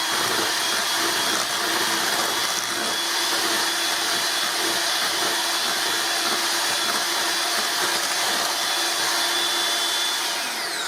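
Electric kitchen mixer beating fudge pie batter, a loud continuous motor whir with a steady hum and slight grinding texture that holds without a break.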